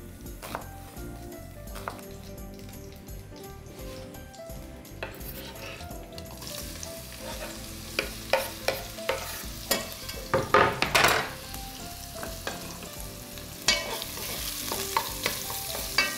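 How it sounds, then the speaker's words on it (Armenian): Feather-cut onion strips fry in a pan, a steady sizzle broken by scraping stirs and clinking of a utensil against the pan, growing busier and louder toward the end, with no talking. "Նույն կացայի մեջ տապակելու եմ փետրաձև կտրատած սոխ։"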